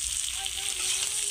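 Oil sizzles steadily in a pan as a fish curry base is fried and stirred, a dense continuous hiss held close throughout.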